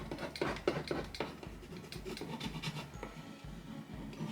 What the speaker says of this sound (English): so then we're just gonna burnish it down